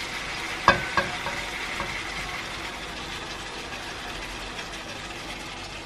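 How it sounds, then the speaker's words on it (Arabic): Food fries in a pan with added spices, giving a steady hissing sizzle, with a couple of sharp knocks of a utensil near the start and then even frying noise. "المهم بعد ما خليتهم يتقلاو شويه"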